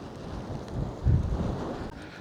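Wind gusts outdoors while soil is piled over a fence footing, a steady low rush that swells briefly in the middle and then settles, with no voices.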